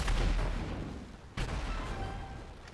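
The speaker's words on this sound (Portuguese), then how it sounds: "para de atirar mísseis na minha casa" Missiles strike a house in the GTA 5 video game, giving a loud booming blast that rumbles and fades, then a second sharp impact about halfway through with a sustained rumble after it.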